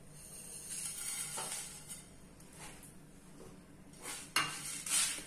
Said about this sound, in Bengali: তা প্রথমে এই মশলাগুলোকে আমি একটু রোস্ট করে নেব।